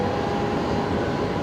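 Boeing 737 MAX 8 airliner moving at Brisbane Airport, a steady broad engine roar, continuous and fairly loud with no speech.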